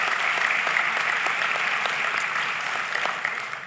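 At a fall university convocation ceremony, a large audience gives sustained applause for an 80-year-old graduate, a dense, even roar of clapping that holds steady and fades slightly toward the end.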